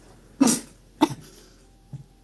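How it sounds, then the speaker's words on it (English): A person coughs three times with no one speaking: two sharp, close coughs about half a second apart, then a softer, shorter third one after a pause. "I cough a bit."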